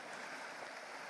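Stream rapids near a covered bridge give a steady, broadband rushing gurgle of water, continuous and fairly even throughout with no voices over it.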